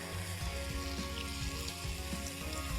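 Blanched fries coated in cornflour frying in hot oil, a dense continuous sizzle and bubbling that stays loud and even throughout, with faint background music underneath.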